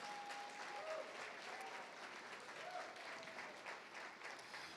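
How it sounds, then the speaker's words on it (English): A university audience at a nursing graduates' pinning ceremony applauds, a steady continuous wash of many hands clapping, fairly distant and quiet, running the whole time. "Let's give a round of applause."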